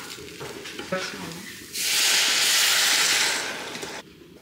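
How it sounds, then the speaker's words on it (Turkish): Rice and lentils are sautéed in a pan and burst into a loud, steady sizzle that lasts a couple of seconds before cutting off, with quieter stirring sounds before it. "Direkt şöyle pirinçle mercimeği şöyle şunu birazcık kavuruyorum."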